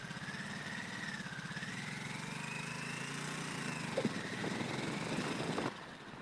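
A Harley-Davidson motorcycle engine idles close by with a low, uneven pulsing rumble. Near the end it briefly revs and clatters, then the sound drops away.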